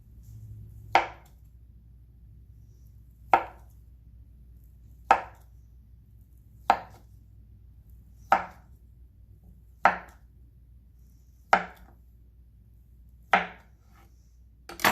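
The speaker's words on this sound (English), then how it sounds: "We're going to slice it." A knife slicing through a block of Spam, eight or so crisp, evenly spaced cuts landing on a board every couple of seconds, close and clear against a quiet room.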